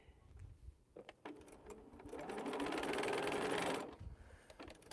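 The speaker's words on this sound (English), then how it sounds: "All right, we just sewing." A sewing machine stitches quilt pieces in one steady run of about two seconds, loud and close, starting and stopping cleanly, with quiet handling noises before and after.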